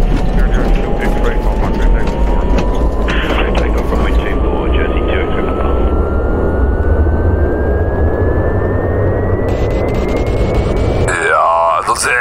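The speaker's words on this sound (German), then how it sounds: "Ich schalte jetzt einfach mal den Engine Start Effekt mit ein. Und dann starten wir mal den Engine" Simulated aircraft engine spooling up in the X-Plane flight simulator, a loud continuous roar with a rising whine climbing steadily in pitch, ending in a shifting warble.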